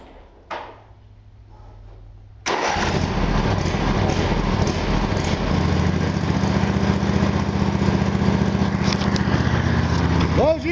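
After a spark-plug regap to wider spacing, a small engine starts with a sudden roar and keeps running loud and steady for several seconds, following a few quiet handling knocks.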